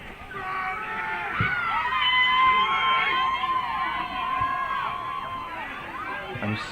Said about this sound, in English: the crowd has progressively gotten bigger as the game has moved on here. Right, and louder.